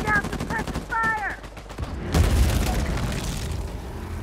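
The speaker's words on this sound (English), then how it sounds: "Bring down the suppressive fire!" Suppressive gunfire in an Uncharted 4 team deathmatch: a burst of booming shots with a fusillade-like rattle cutting in at about two seconds, following chirpy game sounds and continuing as a rumbling backdrop.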